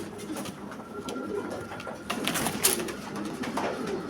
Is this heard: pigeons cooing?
yes